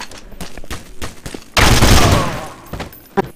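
UMP submachine gun fire in Counter-Strike: Source, a loud close burst of rapid shots roaring for about a second, surrounded by lighter clicks and scattered single reports.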